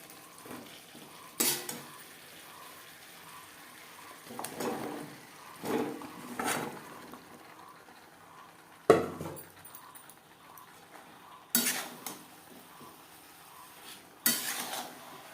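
Bottle gourd and rohu fish curry being stirred in a pan over high to medium flame, with a spoon scraping and knocking against the metal in sharp, spaced bursts over a quiet simmer.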